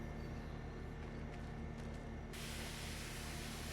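A water sprayer hisses while cleaning a ripper plow outdoors, a steady broadband rush that abruptly grows stronger and brighter partway through and continues alone.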